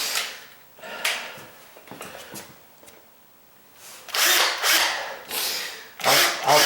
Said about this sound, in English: I'll try it with the drill bit, but I don't want to dig in too far if I don't have to